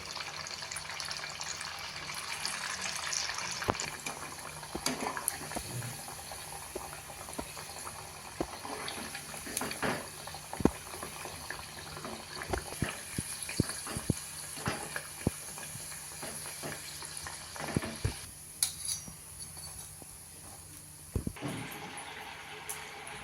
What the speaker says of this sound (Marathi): याच पद्धतीने पुढचेही वडे तळून घेऊया